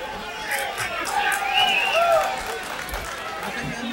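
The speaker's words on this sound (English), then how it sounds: "we got a big crowd on hand at West Martin Field" A big crowd fills West Martin Field, a ballpark in Laredo, Texas, during a boxing match, giving a steady, loud hubbub of many voices and cheering that swells slightly in the middle and holds throughout.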